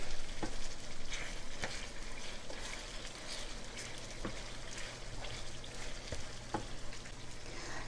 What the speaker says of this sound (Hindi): ये मैं मीडियम से हाई हीट के ऊपर चिकन को फ्राई कर रही हूँ।